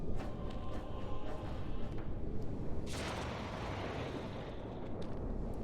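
Explosion in the fantasy video game Dragon Age: Origins, a dense rumbling roar of fire and blast that swells with a sharp burst midway and then trails off into crackling noise.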